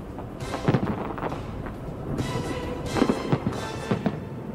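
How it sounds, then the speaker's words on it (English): Fireworks launched from the ground and a casino rooftop burst outdoors in a series of loud booms and crackles, several explosions spaced a second or two apart over a rumbling crowd-like background. "The fireworks being launched from the ground and from the roof of the new Frontier."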